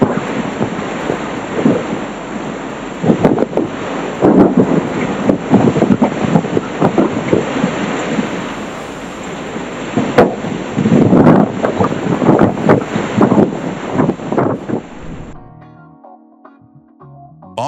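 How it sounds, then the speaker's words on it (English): A night thunderstorm with lightning strikes over Oklahoma, heard as steady roaring wind and rain with repeated rumbling thunder bursts that stay loud and dense until an abrupt cutoff near the end. "Dozens of lightning bolts struck across Oklahoma's night sky"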